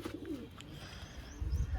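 A pair of Giribaj pigeons coos, one short low rolling call near the start, then quieter rustling and low thumps nearby.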